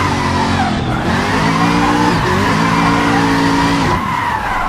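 Car drifting with heavy handbrake use in the Assetto Corsa racing game, with continuous loud tire squeal over a droning engine whose pitch bends and wavers as the car slides.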